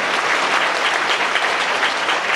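A church congregation applauds together, a thick even wash of many hands clapping steadily and close, sustained without pause or talk.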